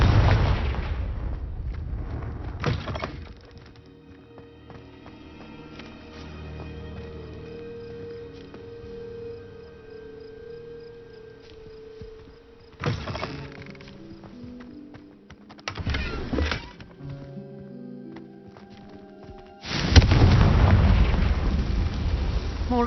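Confringo blasting spell explosions in Hogwarts Legacy, several loud booming bursts breaking through quieter game music and ambience, the heaviest and longest landing near the end.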